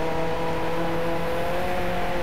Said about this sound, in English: you can hear the tone as you shift up and down in your Lykan